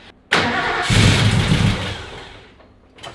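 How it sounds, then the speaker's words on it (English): A Ford XY GT Falcon engine with no choke fires from dead cold, the starter cranking before it catches into a loud, rough, surging idle that gradually settles and fades. "this is a dead cold start on a car with no choke"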